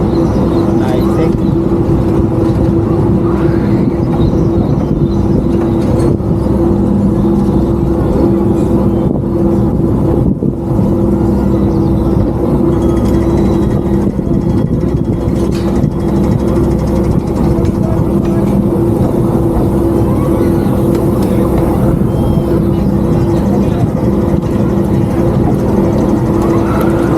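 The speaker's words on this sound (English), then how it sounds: "Nice little ride round there on Hank's Monorail" Hank's Monorail ride at Great Yarmouth Pleasure Beach, a continuous loud low rumble and drone of the moving car with wind buffeting the microphone, steady throughout with faint voices now and then.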